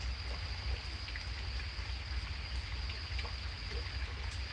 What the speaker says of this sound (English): guess the rain's still somewhat heavy.